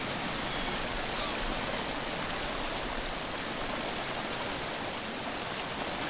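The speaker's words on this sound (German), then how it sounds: "Hier ist doch ein Fluss." A river in the survival game Green Hell flows steadily, a dense, even rush of running water close by with no variation, filling the whole stretch alone.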